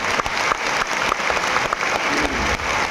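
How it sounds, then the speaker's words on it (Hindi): A gathering of spiritual practitioners at a sant's discourse breaks into loud, continuous crowd applause, a dense steady patter of many hands clapping close by for a few seconds. "एक बार सभी एक दूसरे के उत्साह वर्धन में तालियों की गड़गड़ाहट।"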